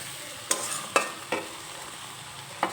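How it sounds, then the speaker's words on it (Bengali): A spatula scrapes fried eggs around in spicy masala in a pan for egg potato curry. Four distinct stirring strokes rise over a soft, steady sizzle, and no voices are heard. "ডিম দিয়ে আবারও একটু নেড়ে চেড়ে নেব।"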